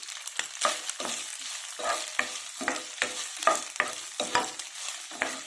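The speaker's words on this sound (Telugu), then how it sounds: "ఆయిల్ వేడెక్కింది ఇవి వేసేసుకుని ఫ్రై చేసుకోండి" Soya chunks frying in hot oil, with a busy crackling sizzle broken by repeated stirring strokes in a fairly even rhythm, close up and with no voices.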